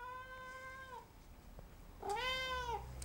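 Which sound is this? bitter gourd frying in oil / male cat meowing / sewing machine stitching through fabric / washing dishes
male cat meowing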